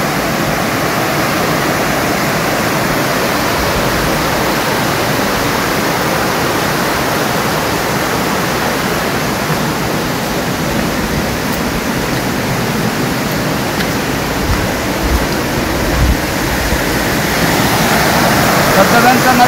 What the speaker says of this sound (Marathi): पारनेरचे हे धबधबे तुम्ही एकदा पाहू शकता.